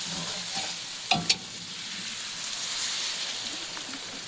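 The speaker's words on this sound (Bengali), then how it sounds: "এখন মাংসটা কষা হয়ে গিয়েছে, এবার আমরা এর মধ্যে জল দিয়ে দেবো" Meat curry cooking in a pot at an outdoor summer-night picnic: a loud, steady sizzle carries throughout, with a couple of sharp stirring clatters just after one second.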